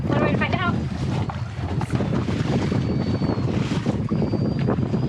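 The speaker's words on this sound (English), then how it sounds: "That is the sound of the harmonics of our fishing pole." Fishing pole line under tension on a sailboat hums with a thin steady pitched tone, faint beneath strong wind rush, water and boat noise, with people talking nearby.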